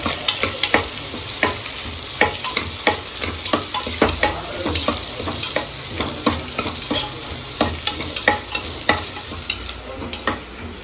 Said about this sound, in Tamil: இப்போ வெங்காயம் தான் போட்டுடலாம். வெங்காயம் இதெல்லாம் போடுறதான் பிரியாணிக்கு.